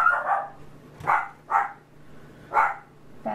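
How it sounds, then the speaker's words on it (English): A grandmother's dog barks four times in an uneven rhythm, each bark moderately loud and slightly distant, against a quiet indoor background with a faint hum. "That's just my grandmother's dog."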